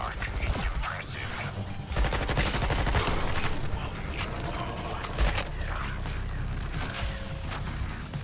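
Gunfire rattles in Suicide Squad Kill the Justice League, dense bursts of automatic shots and impacts running almost without pause over the game's background noise.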